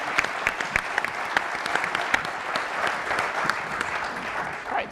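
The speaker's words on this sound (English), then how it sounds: "Let's give him a nice round of applause." At an entrepreneurship challenge pitch event, the audience gives a round of applause to a contestant, steady clapping from a sizeable crowd with individual crisp claps punctuating the wash.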